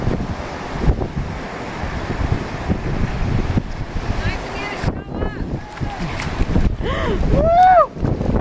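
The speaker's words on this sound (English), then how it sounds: "See, the wind's just blowing right across there." Wind blows across a lake during a kayaking outing, a low gusting rumble buffeting close to the microphone. Voices and excited calls rise over it toward the end.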